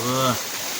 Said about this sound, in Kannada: ಮ್ಯಾಗಿಂದೆಲ್ಲ ನೀರು ಬೀಳಕತ್ತಾವು. ಬಾ ಏನು ಮಳೆ ರೀ ಇದು.